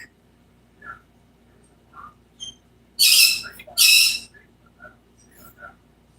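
Two loud, harsh bird squawks burst out in quick succession, with a few softer chirps and calls scattered before and after in a quiet setting.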